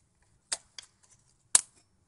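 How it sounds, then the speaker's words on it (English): An Audi A4 brake pad wear sensor peg clicks into place, a few small sharp plastic clicks close by in a quiet setting, with the loudest snap at the end. "the little peg will click and engage, and then put the plug back on"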